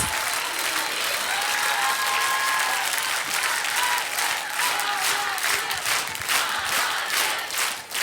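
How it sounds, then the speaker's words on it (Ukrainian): Concert hall audience applauding after a Ukrainian folk song performance, sustained dense clapping with some cheers, steady and loud throughout. "Оплески не вчухають у нашій глядацькій залі."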